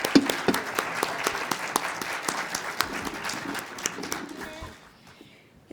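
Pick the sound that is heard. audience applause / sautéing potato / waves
audience applause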